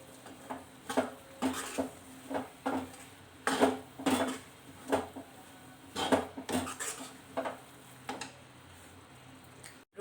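Leftover roti powder is stirred into milk and sugar, a spoon repeatedly clinking and scraping against the bowl in an uneven rhythm of light taps with quiet gaps between.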